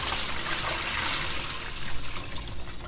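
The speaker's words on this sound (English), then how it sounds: "get your strainer and just rock back and forth" Water drains and trickles as a strainer of washed beans is rocked back and forth, a continuous close splashing wash of liquid without talk.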